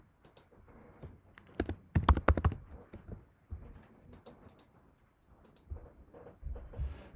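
Keys clatter on a computer keyboard in irregular bursts of quick taps with short pauses, close and moderately loud, and nobody talks over it.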